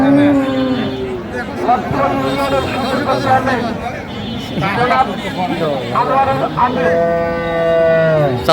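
Several dairy cows moo loudly and repeatedly at a livestock market in Aftabganj, Dinajpur, long drawn-out calls overlapping with murmuring voices and crowd chatter nearby.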